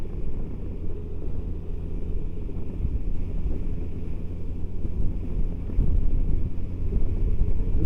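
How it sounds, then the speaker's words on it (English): Steady roaring wind buffets the microphone while riding a Honda Goldwing motorcycle at highway speed, a dense low rumble that swells slightly toward the end, with no voices. "It's quite windy though."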